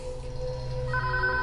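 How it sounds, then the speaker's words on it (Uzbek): A telephone rings indoors with a steady electronic tone, loud and near and heard on its own without voices, changing pitch partway through. "Telefon qo'ng'irog'i."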